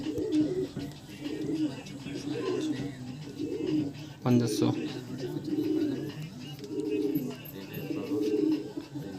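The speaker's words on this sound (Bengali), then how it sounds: "এটা অন্ধ্র পায়রা" Andhra pigeons coo in repeated low, rhythmic throaty bursts close by, while a person talks briefly over them.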